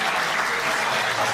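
Guests at a wedding celebration in Istanbul applaud in a dense, steady burst of clapping that fills the space throughout, loud and continuous with no pause.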